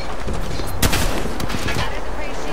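Loud close shotgun blasts from a Mastiff in Apex Legends, a sharp burst near the start followed by a few quicker crackling shots, with speech around the firing.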